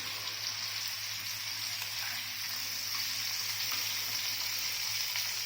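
Large fish (surumbu) frying in hot oil, a steady, even sizzle and hiss that holds constant throughout at moderate level, with no speech over it.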